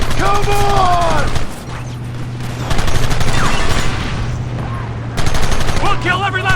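Red Dead Redemption gunfire during a chase, repeated loud gunshots in scattered volleys against a steady humming rumble, with shouting voices in between.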